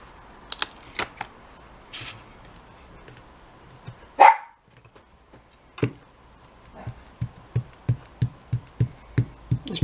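Pet dogs barking indoors, scattered single barks early on, then a run of regular repeated barks toward the end, moderately close with quiet gaps between.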